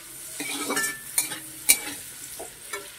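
Sliced capsicum strips frying in a pan with other vegetables, a steady close sizzle broken by a few sharp clinks and scrapes of a spoon stirring against the metal, with no voices.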